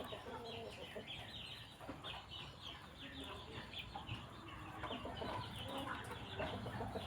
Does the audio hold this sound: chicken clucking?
yes